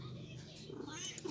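A cat purrs softly and steadily up close, a low, continuous rumbling.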